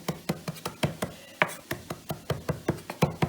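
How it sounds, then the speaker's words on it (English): Quick, steady knife chops through mint and parsley on a cutting board, close and crisp, about five strikes a second with no talking. "Do a few little cuts and then you are chopping."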